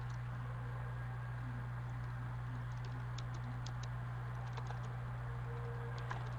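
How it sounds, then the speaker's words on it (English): Computer keyboard typing, soft irregular key clicks in quick bursts over a steady low hum, fairly faint with no talk. "typing"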